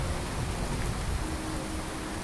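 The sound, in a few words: rain in Skyrim video game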